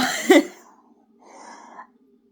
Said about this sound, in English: that was a particularly bad coughing fit there